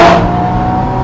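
A Porsche Boxster convertible accelerates on a cold winter road, its engine roaring loud and close with a sharp onset that settles into a steady, rising drone over about a second.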